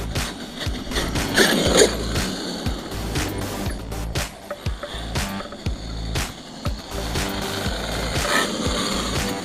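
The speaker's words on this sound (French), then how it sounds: "On dirait un bout de métal qui touche à un bout de plastique." Traxxas X-Maxx 8S RC car with a metal part rubbing against plastic, giving a close, continuous mechanical grinding and ratcheting clatter with irregular clicks, and no talk over it.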